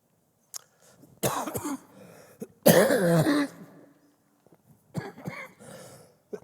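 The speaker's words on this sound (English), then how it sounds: "I have talked myself into a coughing fit" A close, loud coughing fit: a few scattered coughs build into a long raspy burst, then trail off into smaller coughs and throat clearing.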